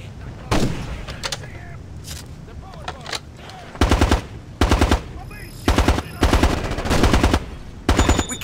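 Squad weapons in Ghost Recon Advanced Warfighter 2 firing in loud, close bursts of rapid automatic gunfire, several separate volleys spaced over the stretch with brief quieter gaps of ambient battle noise between them; no speech during the shooting.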